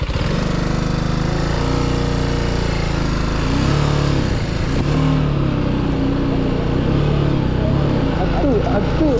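A TVS motorcycle ridden off-road, its engine droning loud and steady with shifting revs throughout.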